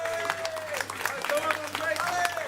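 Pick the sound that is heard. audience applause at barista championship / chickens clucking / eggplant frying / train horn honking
audience applause at barista championship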